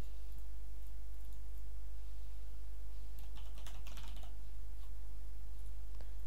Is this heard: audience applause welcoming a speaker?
no